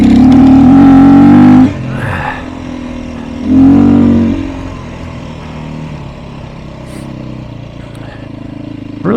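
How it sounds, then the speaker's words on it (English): A Beta 500 RRS dirt bike engine is ridden on a trail as snow melts, with two loud revving surges that drop back to a steady lower drone, heard close with no talking. "this is the closest thing to a dirt bike that I've had since I was a kid"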